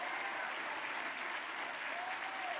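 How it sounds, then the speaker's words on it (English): An audience at a city's State of the City address applauds the municipal snow crew with dense, steady clapping that fills the room evenly from start to finish, without talk. "Let's have a round of applause for all of them."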